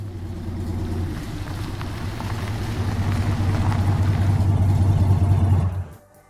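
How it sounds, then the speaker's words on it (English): A car rolls over wet pavement with a steady low engine hum and a broadband tire hiss that builds gradually, then cuts off abruptly near the end, leaving near silence. "A car's headlights are reflecting off of the wet pavement. The sound of car tires contacting the ground is audible."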